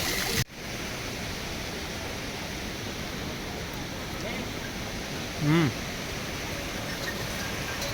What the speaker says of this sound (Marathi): इतका धबधबा मागे पडतोय